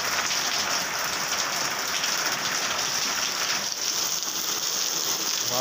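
Rain falls steadily near a workplace, a constant hiss of drops hitting surfaces at an unchanging level, close and unbroken, with no voices over it.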